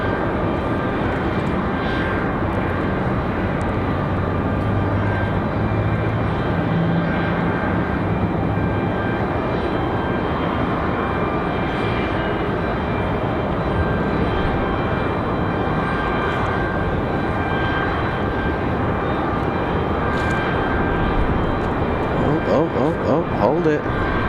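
Republic Airways Embraer E175 LR jet arriving from Chicago and landing at Raleigh-Durham, a sustained, even engine roar that holds for the whole stretch while a voice talks under the noise.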